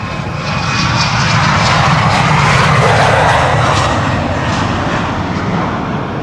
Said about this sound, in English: 1753 to Hamburg. Hamburgers. Whoa. Embraer 190.